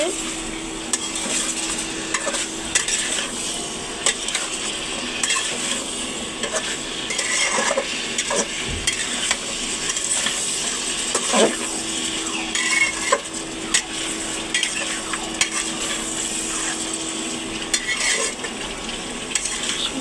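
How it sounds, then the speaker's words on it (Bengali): Potato and vegetable stalk curry is stirred steadily in a pan, with continuous sizzling, frequent utensil scrapes and clinks against the metal, close and fairly loud. "আলু ডাঁটা দিয়ে হচ্ছে নাড়া দিচ্ছে"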